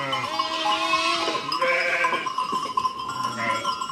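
Sheep and lambs at a mountain farmhouse bleat loudly and close, one long wavering call running into others with little pause. A faint voice may sound underneath.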